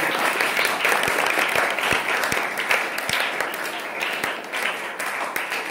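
Students clap together at a school Independence Day celebration, a dense continuous round of applause with a few sharper individual claps standing out, fairly close and steady.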